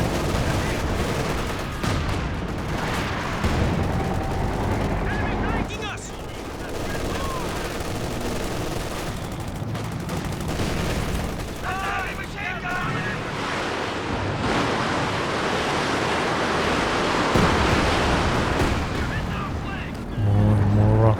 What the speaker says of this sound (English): More and more rockets coming down.